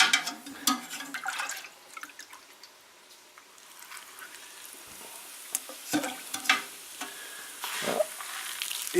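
Food fries in freshly added fat in a pan, a quiet sizzle broken by stirring scrapes and small liquid pops and drips, heard close and without talk.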